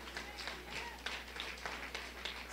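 A church congregation applauds, a faint scattered clapping with irregular claps spread across a low steady hum, quiet and somewhat distant.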